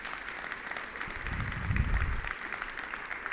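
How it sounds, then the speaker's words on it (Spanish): Church congregation applauding during a sermon, a continuous crowd clapping with a swell in the middle, moderately distant. "Dale una fuerte aplauso a Dios si quieres"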